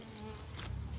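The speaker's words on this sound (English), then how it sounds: "I don't have a single bee on me, it seems." Honeybees buzz steadily around an open hive at a zoo, a close, continuous droning hum with no voices over it.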